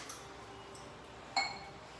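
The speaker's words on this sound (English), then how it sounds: "And we have to put the 2 glass of water." A glass of water set down on a hard surface during Ayurvedic remedy preparation, giving a single faint clink against a quiet room background.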